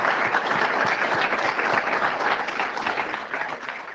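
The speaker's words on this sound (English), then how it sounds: "we just want to all give Buddy and Jamie a round of applause" A room full of people at a driver meeting clapping in a round of applause, dense steady clapping close by that gradually thins toward the end.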